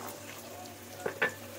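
Carrots and green peas fry in ghee with a little oil in a wok, making a soft, low sizzle. Two quick metallic utensil clinks sound near the end.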